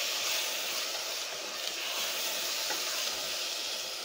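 Garlic and tomato paste fry in a pan for spaghetti bolognese, giving a steady close sizzling hiss with faint scraping as the mixture is stirred, no talk.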